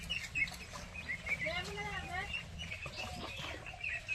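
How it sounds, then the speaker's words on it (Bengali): A flock of domestic country ducks gathers on a home farm, with scattered quacks and bird calls rising in short bursts at a moderate distance while people talk nearby. "এখানে অনেক হাঁস আছে"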